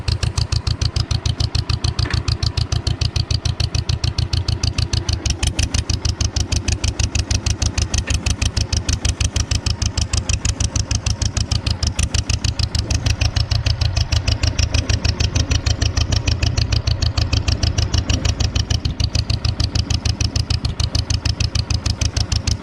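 A 1948 John Deere M and a 1949 Farmall C tractor run together in snow, giving a loud, steady, closely miked engine putter with an even rapid firing rhythm throughout.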